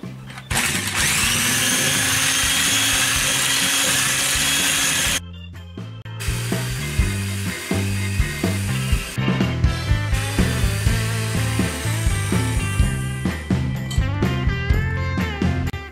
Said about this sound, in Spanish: vamos a empezar a batirlo con la batidora